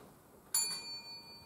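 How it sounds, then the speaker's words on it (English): A single debate timing warning bell dings once, a bright clear strike that rings on with a slowly fading tone in a quiet room. "A single warning bell will sound 1 minute before the speaking time."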